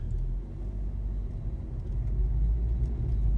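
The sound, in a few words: 2017 VW Golf R DSG driving in eco mode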